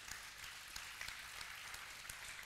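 Audience applause at an equestrian show finale at a horse fair in Verona, a faint, steady wash of clapping heard from a distance with no voices over it.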